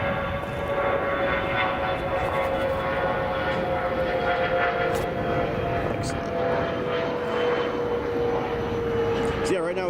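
An airliner lands on runway 28 Center at Chicago O'Hare International Airport, its engine roar steady and sustained with a drawn-out tonal whine running throughout.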